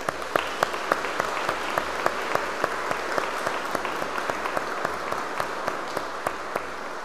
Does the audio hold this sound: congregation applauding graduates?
yes